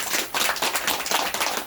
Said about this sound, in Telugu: ఒకసారి చప్పట్లు కొట్టండి మీరు.